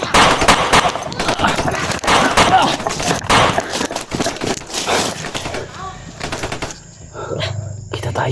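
Dense rapid gunfire fills a shooting video game, loud, near and nearly continuous before thinning out toward the end.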